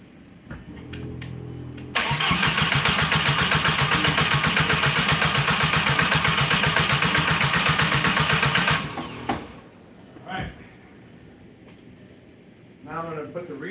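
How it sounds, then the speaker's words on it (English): Car engine cranking with a fast, loud rhythmic starter whir for several seconds, then stopping abruptly, followed by quieter garage sounds and brief clatter; close and dominant. "We're gonna crank it one more time, and then we're gonna get ready to turn it on."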